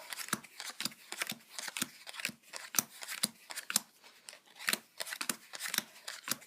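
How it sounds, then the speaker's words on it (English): Playing cards are dealt one by one into two piles, a quick run of crisp slapping snaps, close and evenly paced. "we're going to deal out the cards into two piles"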